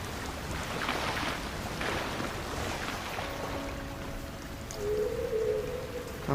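Rain falls steadily in the video game Sky: Children of the Light, a broad, even hiss of drops on surfaces that swells slightly at the end, with a soft tonal game sound layered over it.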